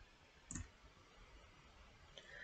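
Computer mouse button clicking during a software download: a single sharp, close click stands out, followed by a fainter one near the end, over quiet room hiss with no talking.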